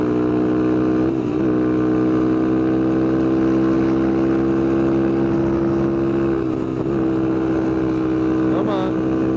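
Car engine droning steadily after a downshift while driving, with the pitch of the engine note rising and falling as the revs shift, loud and constant, with some wind noise and a voice speaking over it.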